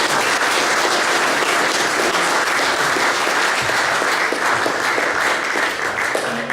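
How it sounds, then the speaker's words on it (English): Audience at a Tea Party versus Occupy panel event in Duluth, Minnesota, applauding the panelists; a loud, sustained crowd of clapping hands fills the whole stretch without letting up. "give another round of applause to both of our panelists"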